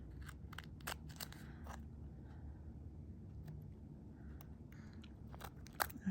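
Several crisp snipping clicks of sticky scissors cutting embossed aluminium metal tape, scattered irregularly over a low, steady background rumble, with one sharper snip near the end.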